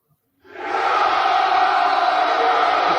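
A crowd cheering sound effect is played back, bursting in after a short silence and holding as a loud, dense roar of voices for the rest of the clip.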